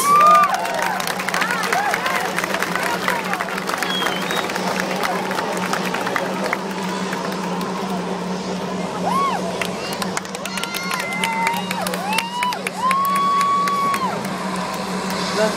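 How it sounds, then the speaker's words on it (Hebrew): A crowd cheers and applauds at an Israeli Air Force demonstration as a C-130 'Karnaf' transport lowers its ramp and Shaldag unit fighters exit; steady crowd noise continues throughout, with a voice talking over it and whistle-like tones. "מגיעות להם תשואות רבות."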